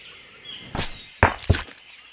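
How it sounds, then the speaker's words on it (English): Spider cue from the jungle survival game Green Hell VR: three short dry clicking, scuttling bursts, close and moderately loud, with faint ambient hiss between them and no talk. "Always listen for spiders,"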